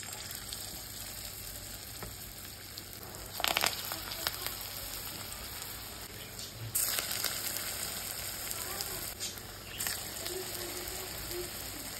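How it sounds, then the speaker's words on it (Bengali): Pakoras frying in a pan of oil, a continuous soft crackling sizzle with occasional louder bursts of bubbling as pieces are moved, close but fairly quiet, with no talk over it. "চলো পকোড়াটা ভেজে তাড়াতাড়ি খেতে বসে যাই"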